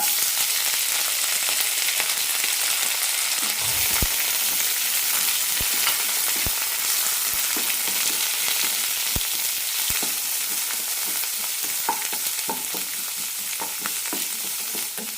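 Onion, urad dal, curry leaves and red and green chillies sauté in hot oil with mustard seeds in a pan, giving a steady close sizzle and crackle throughout with occasional stirring clicks and no talk.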